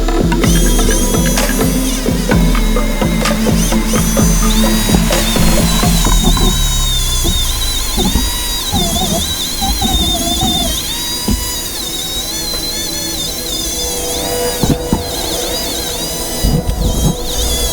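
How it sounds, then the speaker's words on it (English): A small Dremel rotary tool whirs steadily against a car transmission case while cleaning out dirt and dust, a loud continuous buzz with shifting pitch and occasional clattering knocks, no voices. "with this little Dremel it can actually get into those areas to get all that dirt out"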